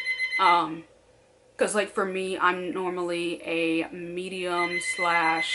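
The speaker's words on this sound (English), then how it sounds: "sorry for the phone. Yeah, sorry. I can't do anything about it. It's going to keep ringing." A telephone keeps ringing in the background with a repeated electronic tone while someone talks steadily over it.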